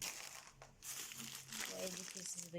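A plastic bag of spaghetti crinkles and rustles as it is handled close by, with soft irregular crackling throughout.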